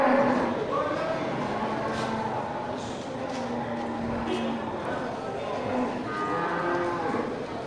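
Cattle low and moo at a local livestock market selling cattle ahead of the meugang slaughter, the calls drawn out amid a steady crowd murmur, with people talking throughout.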